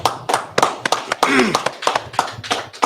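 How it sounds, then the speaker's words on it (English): Congregation at a Saturday Sabbath service clapping in distinct, rhythmic hand claps, close and sharp, with a voice speaking briefly in the middle. "All right. Clap it up."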